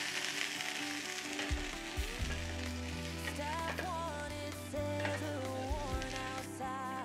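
A patty melt sandwich fries in a small pan, giving a steady close sizzle with some clattering shifts and tonal background sounds layered over it.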